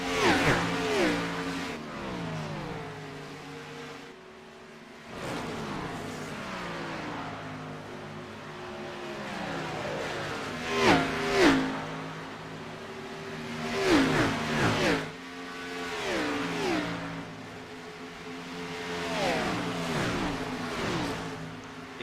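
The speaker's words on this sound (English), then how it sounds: "Hear the raw power these things create when they're on that track" Race car engines in an eNASCAR video game at Texas Motor Speedway roar past in repeated swells, each whining pitch rising and falling as cars sweep by, loud and continuous for the whole stretch.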